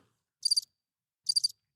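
A cricket-chirp phone ringtone plays two short bright trill bursts, about a second apart, loud and clear against silence with nothing else around them.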